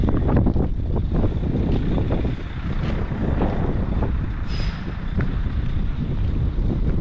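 Strong wind buffets the microphone outdoors on a hot afternoon, a steady loud rumbling roar with gusty surges and no voices.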